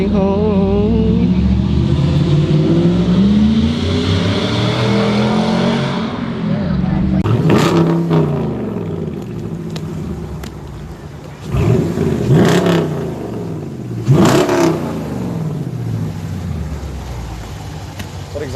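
A car fitted with Flowmaster mufflers rumbles and revs loudly nearby, its exhaust note rising and falling in repeated throttle blips, with people talking over it.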